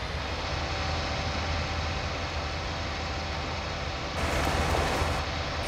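A tractor engine in Farming Simulator 19 drones steadily with a loud, even hum, briefly rising in intensity near the end while the machine works a field on the Ravenport map.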